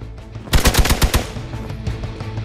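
Video game gunfire from Marvel Midnight Suns, a loud rapid burst of about half a dozen machine-gun shots followed by a rumbling tail of lingering combat noise.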